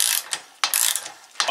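A ratchet wrench worked by hand on a bolt gives three bursts of dense, rapid pawl clicking, close and fairly loud, with short quiet gaps between strokes.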